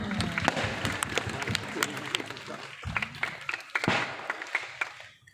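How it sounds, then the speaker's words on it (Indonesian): Audience applause at a church storytelling event, scattered clapping and taps from a small group mixed with children's voices and some thuds, fading toward the end. "Wow, tepuk tangan."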